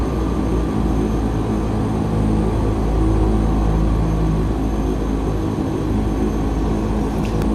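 Steady engine drone of an OV-10 Bronco aircraft in a VR flight game, a constant low propeller hum throughout with no speech.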